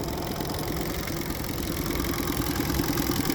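A 2019 Mercury Tohatsu 30hp in-line three-cylinder EFI four-stroke outboard idles in neutral, a steady close low thrum with an even rhythmic pulse and no talk over it.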